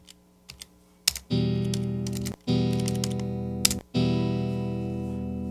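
Keyboard key clicks in Guitar Pro 6 score software, a few sharp taps, each followed by a sustained distorted guitar note played back, three notes in turn with no talk.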